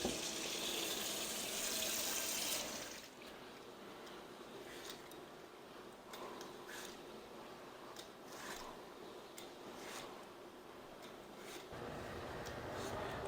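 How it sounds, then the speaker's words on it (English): Hands are washed under a running kitchen tap during home cooking. A soft, faint water stream runs steadily, with brief splashes and clicks over the flow. "I've washed my hands at least 10 times and maybe more"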